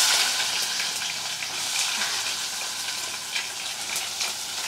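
Onion fries in a pan with mustard seeds, cumin and fenugreek, making a loud, close, steady sizzle. Light stirring ticks sit within it, and the frying is slightly stronger at the start.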